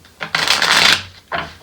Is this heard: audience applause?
no